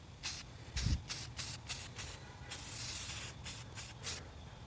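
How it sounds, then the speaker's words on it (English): Black Rust-Oleum spray paint hisses from a can in a series of short, separate bursts onto a giant pumpkin prop, soft and fairly quiet. "I'm just using Rust-Oleum spray paint. This one's black."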